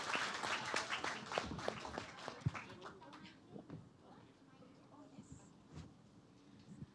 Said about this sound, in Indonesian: Boleh minta tepuk tangan sekali lagi untuk para speaker kita hari ini